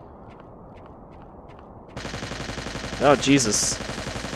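Rapid bursts of gunfire from a gun-faced dinosaur in the video game Trespasser break in loudly after a quiet stretch and grow sharper near the end, with a man's startled exclamation over them.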